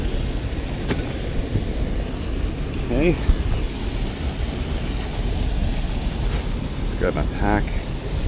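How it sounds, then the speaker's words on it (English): Nearby water rumbles as a steady low wash outdoors, while someone talks briefly over it. "You're gonna hear some water rumbling though."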